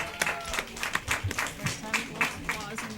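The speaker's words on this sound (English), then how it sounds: "if you're going to applaud after every vote" Audience at a Rochester city council meeting breaks into scattered clapping after a vote, a series of sharp claps over several seconds with voices murmuring underneath.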